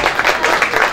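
Audience applause at a live comedy show, a steady wash of clapping from a crowd that stays even and dense for the whole second.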